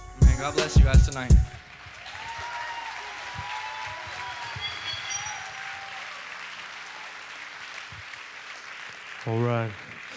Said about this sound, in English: let's give them another round of applause this evening